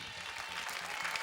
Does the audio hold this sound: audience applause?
yes